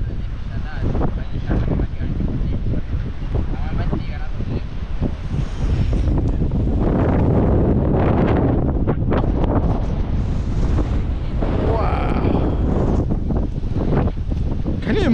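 Strong wind blowing outdoors in a city in Argentina, roaring steadily against the microphone and buffeting it in loud gusts throughout.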